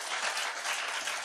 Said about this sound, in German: Gebt euch mal selbst einen Applaus.